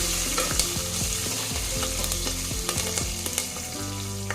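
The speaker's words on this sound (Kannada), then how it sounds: "ಕರಿಬೇವು ಹಾಕ್ತಾ ಇದ್ದೀನಿ, ಒಂದ್ಸಾರಿ ಫ್ರೈ ಮಾಡ್ಕೊಳ್ಳಿ ಈ ರೀತಿ." Curry leaves and green chilies fry in hot oil for dal tadka, making a loud, close, continuous sizzle with frequent scraping stirs of a spoon and no voices.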